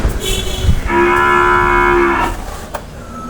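A calf or cow on a small farm gives one loud, sustained moo lasting over a second, close by, with faint rustling and farm background before and after.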